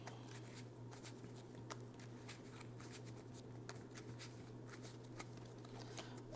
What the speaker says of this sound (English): So we'll go ahead and shuffle up and get started